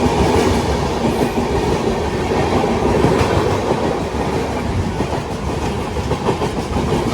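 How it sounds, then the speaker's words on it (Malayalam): Golden Temple Mail passenger train running from Amritsar to Mumbai rushes past near Surat, a loud, steady roar of rolling coaches with rhythmic clickety-clack wheel beats throughout, no voices. "ഈ പോകുന്നത് അമൃത്സറിന്ന് മുംബൈ പോകുന്ന ഗോൾഡൻ ടെമ്പിൾ മെയിൽ എന്നൊരു വണ്ടിയാണ്."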